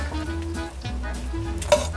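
Beef biryani being mixed in a pot on the stove, with a close, steady frying hiss, low stove hum and one sharp scrape near the end.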